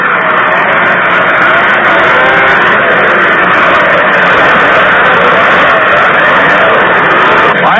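Big 800 class snowmobiles roar together in a championship race at the Western Snowmobile Roundup, a loud, continuous wall of engine noise with no breaks.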